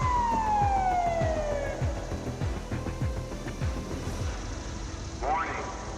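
A riverside flood warning siren sounds a loud falling wail that fades after a couple of seconds, followed by a steady background drone with voices.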